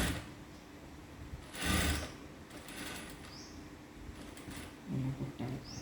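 A sewing machine stitches a star-shaped neckline on a blouse, running in short, fairly quiet mechanical bursts with pauses between them.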